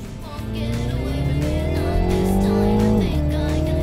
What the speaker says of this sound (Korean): 당연히 주행 모드는 스포츠고 이제 변속기도 스포츠 모드로 한번 달려보죠